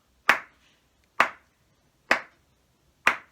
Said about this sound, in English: Here's a pattern for you to clap.